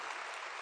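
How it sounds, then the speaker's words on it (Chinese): Applause at a National Taiwan University commencement, a short burst of dense, steady clapping from a large audience. "所以我们在这里一起给他们一掌声，好不好？"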